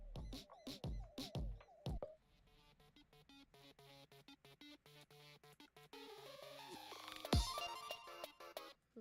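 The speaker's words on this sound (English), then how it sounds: "my phone is going" A mobile phone ringtone plays a bright, repeating electronic melody for several seconds in a quiet indoor room during a game session. No one speaks over it.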